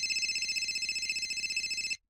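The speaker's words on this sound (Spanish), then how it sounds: "estaba a punto de hablar cuando su teléfono sonó" A telephone rings in a narrated Spanish horror story set around a forest, a rapid electronic trill pulsing steadily for about two seconds, close and clear, then cutting off abruptly with no talk over it.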